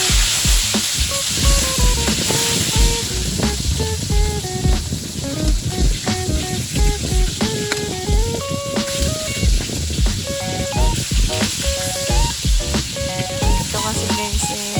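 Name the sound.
gulyasan fish frying in a pan, being flipped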